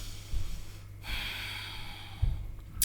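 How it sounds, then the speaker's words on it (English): A single slow breath taken while holding a yoga pose, a soft airy rush of moderate length that is faint and close, with low room rumble underneath. "We'll take one more breath here."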